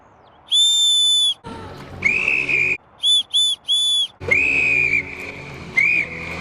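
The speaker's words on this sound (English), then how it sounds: "This is what they call their survival whistle, which is a very rare option." Survival whistle built into a rare Wenger Matterhorn Swiss Army knife, blown in a series of shrill, very high-pitched blasts: one long toot, a couple of longer wavering ones, then three short quick bursts and more sustained blows, loud and close.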